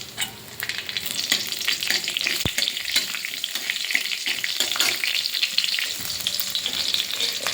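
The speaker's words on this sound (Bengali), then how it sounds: "তেলটা গরম হয়ে গেছে, দিয়ে দেবো কালো ফোড়নে কালো জিরে, দুটো কাঁচা লঙ্কা" Black cumin seeds and two green chillies sizzle in hot mustard oil while cooking hilsa: a loud, steady crackling fry throughout, with one sharp pop partway through.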